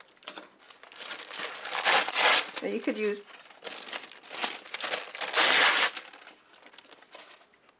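Sheets of wax paper crumpled and crinkled by hand at a painting table, several loud rustling bursts close to the mic, with a brief spoken remark partway through.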